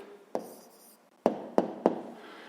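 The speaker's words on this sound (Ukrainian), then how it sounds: "Записуємо відповідь." A pen writing an answer on paper in a maths exercise, with a few distinct taps and short scratchy strokes close by in a quiet room, spaced unevenly.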